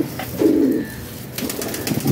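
Pigeons in a Pakistani pigeon gallery give a few soft, throaty coos close by, rising and fading over a couple of seconds with no talk.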